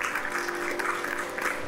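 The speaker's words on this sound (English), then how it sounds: "Can we have a round of applause" An audience at a healthcare awards ceremony claps in a short, steady burst, the applause filling the hall evenly with no clear voices over it.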